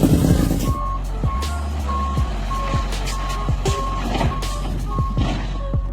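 An 18-wheeler truck reversing into a parking spot, its steady backup beeper repeating at an even rhythm over a loud rumbling engine, with a brief hiss of air brakes early on.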